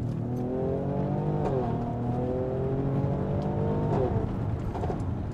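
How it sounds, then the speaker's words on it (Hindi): Mercedes-AMG GLE 43 4Matic Coupe in sport mode under manual pedal-shift control, its engine revving continuously and its exhaust crackling and popping in short bursts over a steady, close drone, with no talking. "listen to the crackles and pops"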